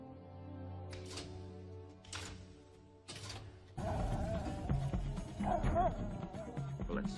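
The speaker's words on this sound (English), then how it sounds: "Dogs." Dogs bark in an animated film, a few sharp yaps early on, then a louder, denser burst of barking and yelping mixed with other noisy action, fairly close.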